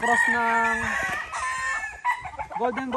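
Gamefowl roosters on a farm crow loudly and close, with overlapping calls and clucks from other fowl, while a voice is heard under them.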